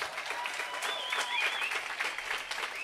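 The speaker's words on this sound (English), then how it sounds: "a big round of applause." Crowd applause fills a Cinco de Mayo park celebration in Gardena, a steady, dense wash of clapping lasting about three seconds with no talk over it.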